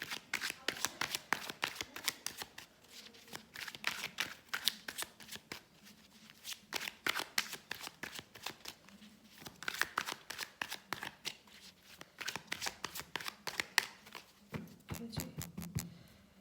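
Tarot cards being shuffled by hand, a continuous run of crisp riffling flutters and slaps in repeated bursts, close and clear, with faint voice in the background.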